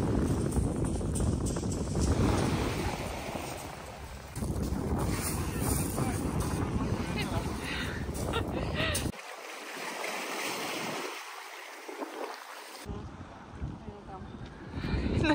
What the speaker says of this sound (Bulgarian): духаше много силен вятър точно там